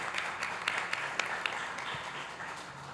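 Applause at a Spanish-language sustainability and fashion workshop event, honoring the event team: a soft, steady patter of many hands clapping at moderate distance, with a few sharper claps standing out, fading slightly toward the end.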